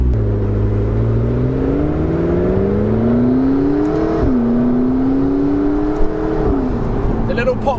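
A McLaren 650S Spider sports car engine revs up through the gears, its rising drone dropping at each upshift, with faint pops at the shifts.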